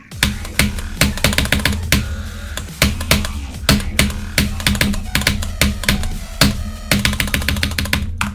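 Steady, fast typing on a Corsair K70 TKL Pro RGB keyboard, with crisp, close key clicks in an even rhythm and occasional heavier strokes, with no talk over it.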